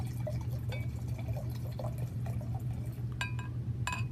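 Wine poured into a glass, a soft liquid trickle with a few bright glassy clinks and drips over a steady low hum of room noise, with no talking.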